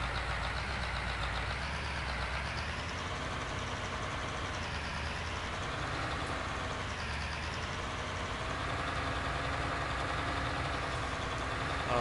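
A tractor engine in Farming Simulator 19 on PS4 runs with a steady, loud, unbroken drone, close and alone without talk.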